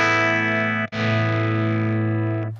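A sustained electric guitar chord through an Axe-Fx II processor drops out in a brief sharp gap as the scene switches to amp 2Y, then resumes loud and distorted before fading out.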